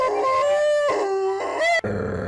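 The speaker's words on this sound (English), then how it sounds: "Howl, a long, loud sound, usually to express pain, sadness, or another strong emotion made by a dog or wolf." A dog lets out a loud, close howl in a few long wavering rises, each note sliding upward before breaking off, with no one speaking.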